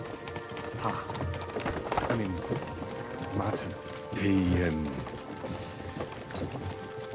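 Horses pulling a carriage in Kingdom Come: Deliverance II clop steadily with rhythmic hoofbeats and carriage rumble, while voices talk over them and a horse briefly whinnies.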